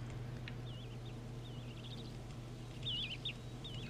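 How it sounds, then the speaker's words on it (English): Forest birds in The Endless Forest video game give repeated short warbling chirps and tweets over a steady low ambient hum, fairly faint and scattered, with no talking. "I just randomly heard some birds."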